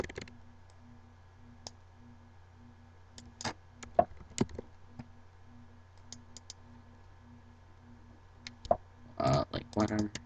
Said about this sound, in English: if we just type anything random